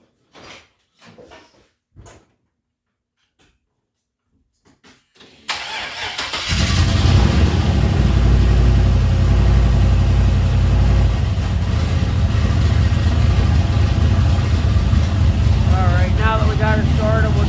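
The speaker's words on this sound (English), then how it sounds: "Got it started, we'll just let it run a little bit, warm up" A car engine after an E85 fuel system flush: a few quiet clicks and taps, then it cranks and catches at about five seconds and settles into a loud, steady idle, with a voice briefly over it near the end.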